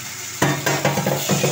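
Potatoes and spices fry in a pan with a steady sizzle, broken by several scraping stirs of a utensil against the metal, close and fairly loud.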